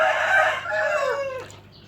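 A rooster crows once, loud and near, in a drawn-out falling call that ends with a short clucking note.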